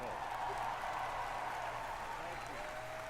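Audience applause at the 2024 Game Awards for Todd Howard, a steady wash of clapping heard faintly and at a distance, continuous for a few seconds.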